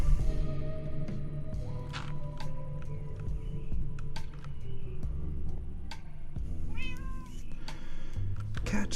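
A cat meows in the video game Minecraft, a few short mews and one rising call over steady in-game background hum and clicks, with no talking.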